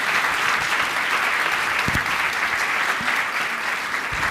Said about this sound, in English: One round of applause for our incredible panelists.